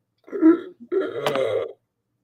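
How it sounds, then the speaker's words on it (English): A single burp, near and fairly loud, breaks into two croaking parts over about a second, then silence. "That was a burp of some sort."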